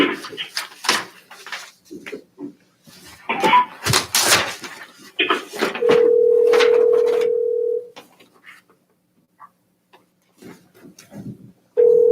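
A telephone dial tone plays during a Planning and Zoning meeting as a call is placed, a steady electronic tone lasting about two seconds, returning briefly at the end, amid scattered talk, thumps and handling noise in the room.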